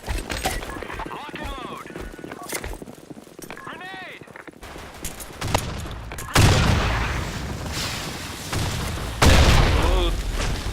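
Heavy booms of grenade explosions and scattered gunfire in a video game, loud and close, with two big blasts late on amid ongoing shooting, while players talk over it.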